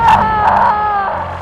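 A woman screams in a recording played back from a dashcam, several strained, wailing cries in quick succession, loud and close, with some low background noise.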